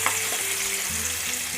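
A paste of onion and tomato fries in an oiled pan over low-to-medium heat for a restaurant-style makhani matar masala, giving off a loud, constant sizzle with no talking.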